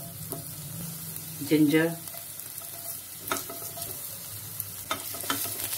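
Chopped garlic sautéing in a tablespoon of hot oil in a pan, a quiet steady sizzle with faint stirring clicks, while someone speaks briefly over it.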